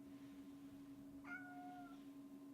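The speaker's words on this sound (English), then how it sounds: "That's just my cat meowing." A house cat gives a single short meow, faint and close, over a quiet steady room hum.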